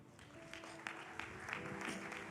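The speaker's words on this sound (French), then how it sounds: "On acclame très fort." An audience at a church gathering claps together in a steady, fairly faint patter of applause lasting a couple of seconds.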